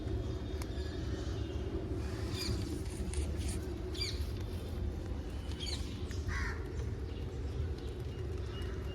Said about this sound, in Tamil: குயில் கூக்குனுது.